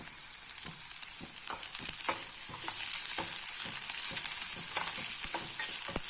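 Capsicum and onion saute in a pan for capsicum rice, a steady close frying hiss punctuated by frequent light scraping stirs of a spatula, with no one speaking.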